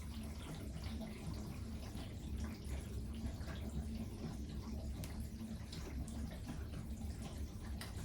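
Steady rushing water fills a Samsung FlexWash upper washer, a constant, fairly quiet flow with faint splashing and no pauses.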